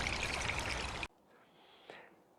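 Water poured into a bird bath, a loud steady splashing pour for about a second that stops abruptly, followed by faint dripping.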